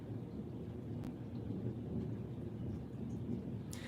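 Rain falls steadily alongside low rolling thunder, a continuous soft hiss over deep rumbling, with a sharp crackle near the end and no voices.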